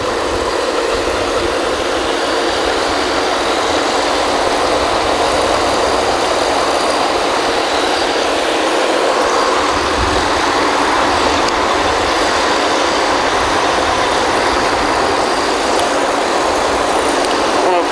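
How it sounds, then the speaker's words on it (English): Mud pumps at a mixing station on a 2009 kelly drilling rig run as a loud, steady mechanical roar and hiss, continuous and close for the whole stretch with no voices over it. "There's a mixing station here. Mud pumps."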